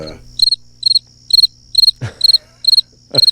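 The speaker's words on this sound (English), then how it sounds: "Those are the crickets." Crickets chirping as a sound effect on a radio show, loud, close, regular bursts of rapid high trills repeating about every half second, with a couple of brief thumps between them.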